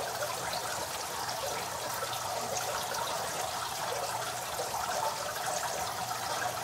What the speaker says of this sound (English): if you notice the splashing from the filter